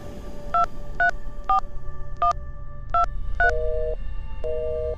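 Touch-tone keypad of a landline telephone being dialed in an upstairs room of an old mansion, about eight separate dual-tone beeps spaced unevenly, the last few longer, clear over low background hum.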